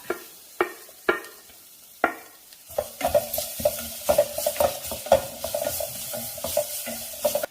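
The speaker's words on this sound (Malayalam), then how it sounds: "അതിലേക്ക് ചതച്ച് വെച്ചിരിക്കുന്ന വെളുത്തുള്ളി ചേർക്കാം" Crushed garlic, added after crushed dried red chillies, drops into hot oil with several sharp clicks, then sizzles loudly as a spoon stirs it around the pan with repeated scraping.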